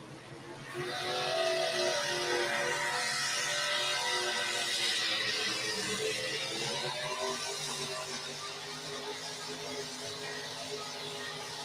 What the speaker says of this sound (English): Jonathan Addington, small block Chevrolet powered John Deere, going to be the first puller